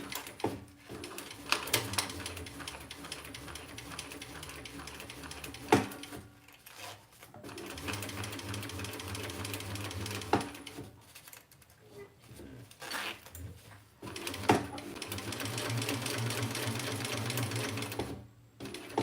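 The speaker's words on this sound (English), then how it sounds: "now we're gonna just sew around that because it's still stiff" A sewing machine stitches around the pocket of a crossbody bag, running in steady rapid bursts of close mechanical whirring, with short pauses between runs.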